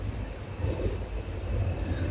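The Guruvayur Madurai Express rolling through Sengottai railway station, a steady low rumble of wheels and carriages heard from on board, with a faint high squeal over the continuous drone.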